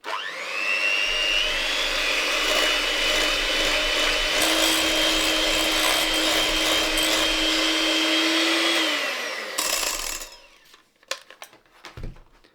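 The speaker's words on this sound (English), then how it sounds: "Let's give it a whisk." An electric whisk beats meringue with caster sugar and vanilla extract, a steady loud motor whine that shifts pitch partway through, runs for about nine seconds, then cuts off and leaves a few clatters.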